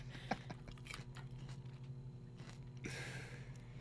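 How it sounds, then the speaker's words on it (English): Someone chews fruit close to the microphone, with soft, irregular wet bites and crunches over a faint steady hum and no talking. "Kevin's chewing"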